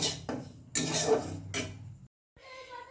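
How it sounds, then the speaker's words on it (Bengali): Roasted semolina is moved from a pan into a container, with a few metallic clinks and scrapes of utensil against cookware in separate bursts, then a brief pause and quieter handling. "তো আমি এবার সুজিটা এটা নামিয়ে নেব একটা জায়গার মধ্যে।"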